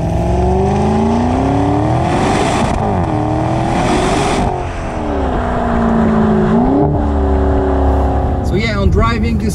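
A 580hp Maserati Quattroporte Trofeo sedan engine revs and accelerates loudly through rising and falling gear changes, close and continuous, with a brief squeal near the end.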